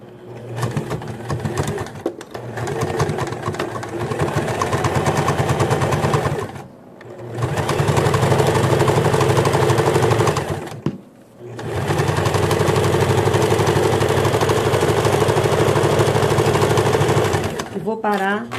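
Sewing machine stitching backward along a bag seam, loud and close, running in long steady buzzing bursts separated by brief pauses.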